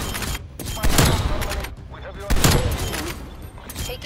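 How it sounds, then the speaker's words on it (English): Gunfire in a Black Ops Cold War match: several loud, sharp shots ring out with echoing tails, spaced apart over a busy background, with a voice speaking briefly in between. "Hostile snipers working."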